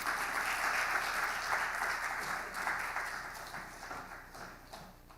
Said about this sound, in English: One more time, a round of applause for the Minister of State at the Ministry of Energy, the Honorable Herbert Krappa,